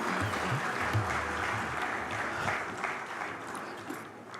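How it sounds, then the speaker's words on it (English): An audience at a leadership summit applauds Hugh Grant and Rahul Khanna with sustained, even crowd clapping that fills the hall and fades slightly toward the end. "A round of applause for Hugh Grant and Rahul Khanna."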